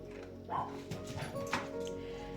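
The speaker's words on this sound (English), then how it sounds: "Don't mind my dogs." Indoor dogs give a few quick barks and yips at moderate distance, fairly quiet, with short gaps between them.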